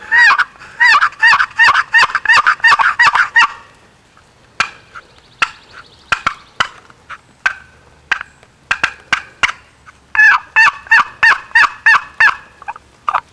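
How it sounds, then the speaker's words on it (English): Turkey box call worked by sliding the handle across the box, producing loud, close bursts of rapid raspy yelps and clucks in rhythmic series, with a sparser stretch of single clucks in the middle before another fast run. "I personally like to hold the box and move the handle to operate this call."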